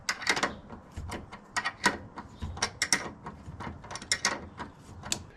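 An impact wrench spins a Ford 3G alternator in bursts of clattering, ratcheting mechanical noise, close and uneven, with no speech.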